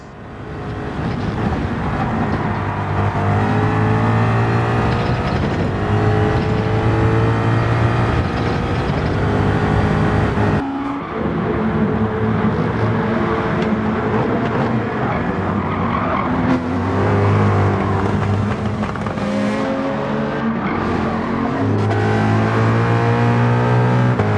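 Race cars in Gran Turismo 7 pursuing a Porsche 911, loud engine drones rising and falling through gear shifts with tyre squeal, continuous and close for the whole stretch, no talk.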